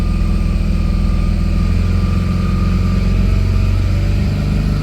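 A high-mileage 7.3 Powerstroke diesel truck engine holds steady at 2,500 RPM, a loud, constant, throbbing drone with a deep rumble and no speech over it.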